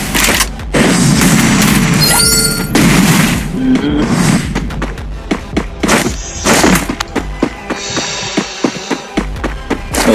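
Gunfire in a video game landing a headshot: loud, dense bursts of shots and booms fill the first seconds, then sharper separate cracks and thuds follow at irregular intervals, with faint voice underneath.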